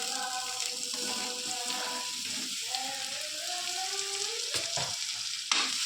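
Soya chunks fry and are stirred in a hot pan with a steady sizzle and occasional scraping, close and moderately loud with no talk.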